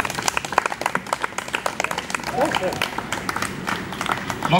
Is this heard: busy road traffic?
no